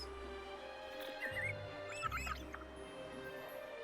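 Faint bird squawks in the video game Wuthering Waves chirp in two short bursts over a steady musical drone and low rumble.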